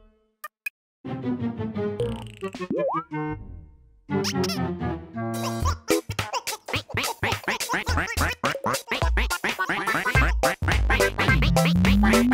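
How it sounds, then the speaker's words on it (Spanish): Pato, the cartoon duck from Pocoyo, quacks in short squeaky bursts among bright cartoon music and sound effects, loud and continuous through most of the stretch. "Aquí está Pato. Tal vez pueda ayudarnos."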